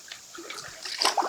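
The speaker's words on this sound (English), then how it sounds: "so I put it in the water here, in the riffle" A mesh net set down into the riffle of a stream, giving a short close splash and sloshing of shallow moving water, strongest near the end.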